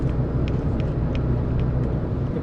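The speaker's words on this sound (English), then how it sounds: "we're just driving around, enjoying the drive." Steady low engine rumble and road noise from inside a car cruising along, with faint periodic ticks over the constant drone and no talking.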